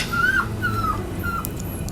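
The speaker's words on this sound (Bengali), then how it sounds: "কুকুর কাঁদছে।" A dog whimpers in a field, three or four thin, high whining cries drawn out one after another at moderate distance over a low background hum.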